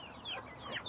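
Backyard chickens and roosters, with Brahma hens and pullets in the flock, give a few short, faint clucks and squawky calls close by, rising and falling over less than a second, with no talking.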